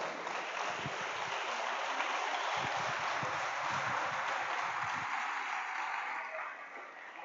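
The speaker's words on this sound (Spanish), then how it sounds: "Dale un aplauso al Señor." A church congregation applauds for the Lord during a Spanish-language sermon, a dense, steady roar of clapping that holds loud for several seconds, then thins and fades near the end.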